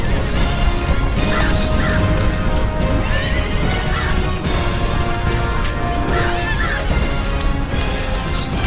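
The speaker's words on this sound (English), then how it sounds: "Vince has his hands full with those horses. They're freaking out." Panicking horses neigh and whinny repeatedly in a loud, chaotic scene, with clopping hooves, crashing and mechanical clatter layered beneath the cries.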